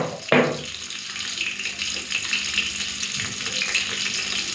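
Bhola fish frying in hot oil in a kitchen, a steady hissing sizzle with a sharp crackle near the start, loud and close, with no talk.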